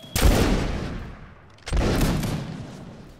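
Two loud musket volleys in the Mount and Musket video game, about one and a half seconds apart, each a sharp ragged burst of many shots with a rolling decaying tail.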